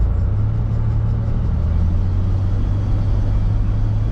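An old, cheap pickup truck driving, with a steady low engine drone and road rumble filling the cabin, continuous and fairly loud with no voices.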